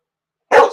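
A puppy gives a single short, loud bark up close after a moment of silence.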